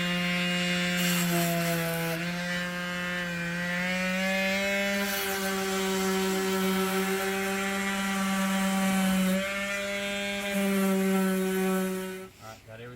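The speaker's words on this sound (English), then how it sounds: "grind all the high spots down and get it ready for filler." Power grinding knocks down high spots on a damaged Cadillac bumper, a steady whining motor drone holding a fairly constant pitch for about twelve seconds before cutting off abruptly near the end.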